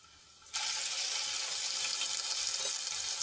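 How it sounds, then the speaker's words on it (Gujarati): Whole spices, dried red chilies and ginger-garlic-chili paste hit hot oil, and a sudden loud sizzle bursts in after half a second of quiet, then keeps hissing steadily and closely to the end. "અને પેસ્ટને આપણે થોડી તેલમાં સાંતળી લઈશું"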